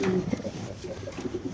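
BRPFC-registered maxi racer pigeons, a male and female pair with leg tags, coo in a soft low murmur close by, with short rumbling pulses over a noisy background.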